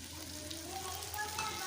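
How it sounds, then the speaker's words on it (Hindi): Spice masala with yogurt fries in a pot for mutton biryani, giving a soft continuous sizzle with faint stirring at close range, steady and low in level. "और इसके साथ भी मसाले को भून लेंगे"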